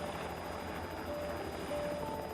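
A helicopter flies with a steady, droning rotor and engine roar, heard as if from inside the cabin at constant loudness, with no talking.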